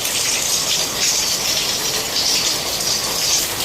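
Heavy rain pours down in a constant, loud, close wash of rushing water, steady throughout with no gaps and no one speaking.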